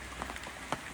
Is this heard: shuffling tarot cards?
no